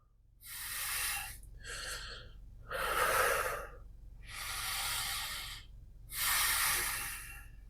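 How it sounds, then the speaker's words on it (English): Five long, slow deep breaths in an even rhythm, close and fairly loud, each a broad airy rush with short quiet pauses in between. "taking a couple of deep breaths, focusing on your breathing"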